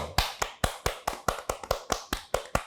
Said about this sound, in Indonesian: kasih tepuk tangan yang paling meriah buat Sang Rektor Arif Wismoyono